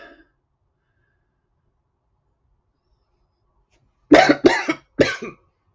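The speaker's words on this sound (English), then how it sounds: "when I have a cough like this" Three sharp coughs in quick succession after a long stretch of silence, close and loud.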